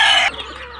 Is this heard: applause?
no